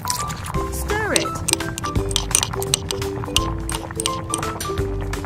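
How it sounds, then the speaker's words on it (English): Curry with carrot, red pepper and whipping cream being stirred in a tiny pot in a miniature kitchen, giving soft close clinks and wet squishing throughout, with a faint tonal hum underneath. "Stir it."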